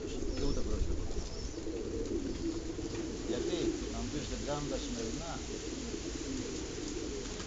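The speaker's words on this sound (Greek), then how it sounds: "ασχολούμαι με αυτά τα περιστέρια από το 1976 μέχρι τώρα" Domestic pigeons kept by a long-time fancier coo softly and repeatedly under continuous male conversation, with steady low murmuring throughout.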